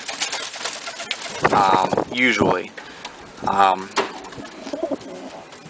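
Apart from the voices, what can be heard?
male pigeon cooing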